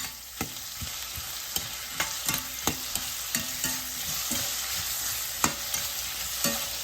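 Onions frying in a pan as half a tomato is added for a broccoli stir-fry, with a steady sizzle and repeated sharp clacks of a spoon stirring against the pan; no talking.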